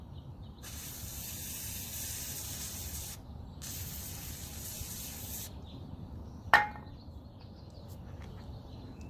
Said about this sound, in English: Spray on the patch.